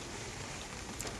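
Steady rain falls on a wet village day, a dense, even hiss of drops spreading across the whole clip at moderate level, with a couple of slightly brighter patters near the end and no talk.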